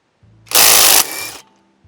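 A Bauer high-torque impact wrench set to speed 3 hammers a lug nut in one loud, dense burst of roughly a second, then spins down briefly, close up and alone.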